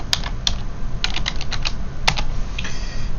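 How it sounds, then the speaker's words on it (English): A password is typed on a computer keyboard in quick, uneven bursts of close, crisp keystrokes, with a few sharper clicks standing out and no voices. "And then I can type in my own password."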